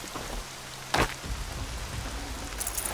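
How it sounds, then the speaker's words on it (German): Rain pours steadily in the video game Horizon Zero Dawn, a continuous soft hiss broken by one brief sharper splash or burst near the start. "Noch mehr Regen."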